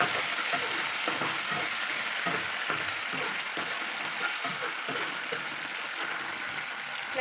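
Ginger garlic paste frying in a pan for a dried fish curry masala, a steady close sizzle with scattered crackles and stirring clicks throughout, no talk.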